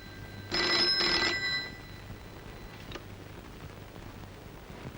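A telephone bell rings in two short bursts with a brief gap between them, then a faint click and quiet room tone.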